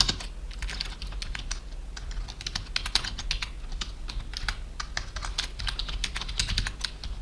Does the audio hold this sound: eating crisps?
no